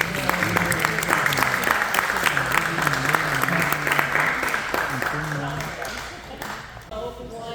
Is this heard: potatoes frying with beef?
no